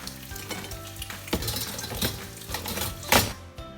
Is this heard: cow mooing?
no